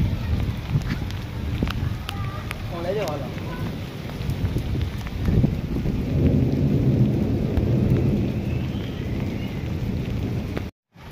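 Heavy rain pours steadily in a dense hiss, with low thunder-like rumbles rolling underneath before it cuts off abruptly.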